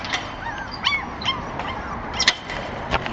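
An adult mother dog of a puppy litter for sale gives several short yips and whimpers, close by and moderately loud, with brief barks spaced irregularly over a quiet outdoor background.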